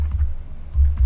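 Typing code on a computer keyboard for a Node and Express project, with a few muffled, thumpy keystrokes in short clusters, close and fairly loud.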